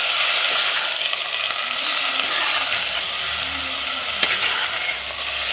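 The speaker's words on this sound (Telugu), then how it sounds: "ఇప్పుడు మనం చికెన్ని యాడ్ చేసుకుందామండి." Half a kilo of chicken sizzles and fries steadily in a pan for Pallipalayam chicken fry, a close, continuous hiss with faint stirring scrapes and one sharp clink near the end.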